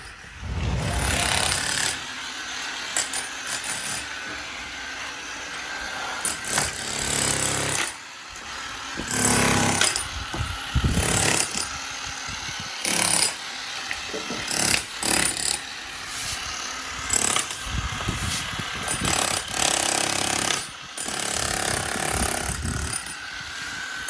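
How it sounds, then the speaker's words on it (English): Loud, harsh power-tool grinding and drilling on stone swimming pool coping, running in long bursts with brief pauses, close by, with no talking. "And so they're drilling around nicely here."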